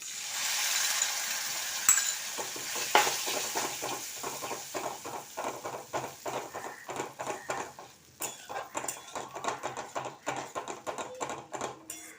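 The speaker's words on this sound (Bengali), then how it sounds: "এবার আঁচটাকে একদম কম করে দিলাম, দইটা দিয়ে দিলাম।" Yogurt stirred in a pan over low heat for a tarka, a run of close, repeated scraping and clicking strokes of a utensil against the pan, irregular in rhythm, after a soft hiss at the start.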